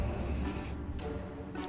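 Bug spray hisses from an aerosol can in the video game 60 Seconds, in two short bursts separated by a brief pause.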